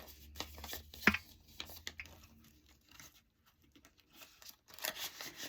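Paper banknotes being folded and handled close up, a quiet run of crinkles, soft rustles and a sharp crisp snap, with brief pauses between bursts.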